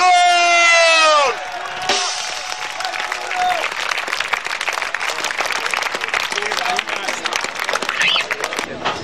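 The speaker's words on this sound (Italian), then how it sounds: "Vi chiedo, fratelli miei, un grande applauso" A concert crowd at an outdoor live show in Falconara bursts into steady applause and cheering after a loud held tone cuts off, the clapping dense and sustained for several seconds with scattered shouts.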